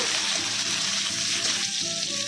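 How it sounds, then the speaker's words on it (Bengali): Thick-cut chunks of a large tomato frying in hot oil, a dense, continuous hiss of sizzling close by, steady and loud, with no voices. "তেলটা গরম হয়ে গেছে। এবার এর মধ্যে আমি একটা বড় সাইজের টমেটো একটু মোটা মোটা করে কেটে দিয়ে দিলাম।"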